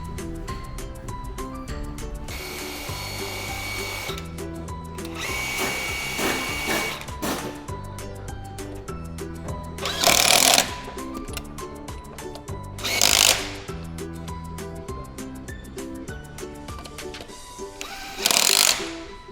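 A Parkside power tool spins to tighten a wheel nut, a buzzing, rattling mechanical whir that pulses on and off in short bursts with a few louder sharp hits.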